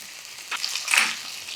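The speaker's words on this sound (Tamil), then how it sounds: "உப்பு சேர்க்குறப்ப அந்த வெங்காயத்துக்குள்ளே இருக்கிற மாய்ச்சர் வந்து வெளித்தள்ளப்படும் அதனால் சீக்கிரமாக ஃப்ரை ஆகும்" Onions fry in a pan as salt draws out their moisture, making a soft, close, hissing sizzle that swells briefly with a stirring scrape.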